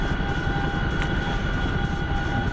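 Chinook helicopter flying in a video game, a constant close rotor and engine drone with a steady tonal whine.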